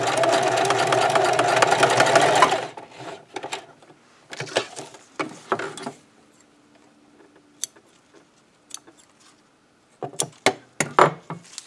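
A sewing machine whirs steadily in one run stitching elastic onto a scrub cap, then stops, leaving scattered clicks and handling taps of the fabric.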